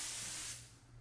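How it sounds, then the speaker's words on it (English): A spray gun lays a medium top coat onto a carbon fiber mold in a steady, close airy hiss that eases off partway through, with a low hum underneath. "Same thing, we want a nice uniform spray and change directions if we can."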